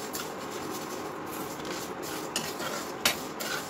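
Spices for radish pickle fry on a low flame, giving a soft, steady sizzle while a spoon scrapes and clinks against the pan in a few sharper knocks near the end.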